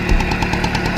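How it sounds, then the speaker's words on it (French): A Peugeot 103 RCX moped with its original exhaust runs close by, giving a loud, rapid, evenly pulsing two-stroke putter over a steady mechanical drone. "c'est le bruit du moteur d'origine"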